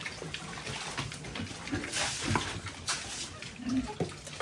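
Water pours into a barrel with a steady splashing, gurgling wash running throughout, close by, while voices speak faintly in the background.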